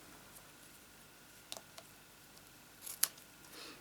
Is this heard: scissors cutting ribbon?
yes